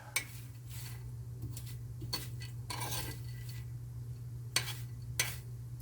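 Puffed wheat being stirred and tossed with oil in a bowl: scattered soft scraping and clinking strokes at an irregular pace, fairly quiet over a steady low hum.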